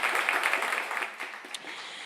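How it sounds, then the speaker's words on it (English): Audience applause at a live radio show broadcast, WDVX Blue Plate Special, a steady wash of clapping held at moderate loudness for about two seconds and easing slightly toward the end. "how about one more round of applause"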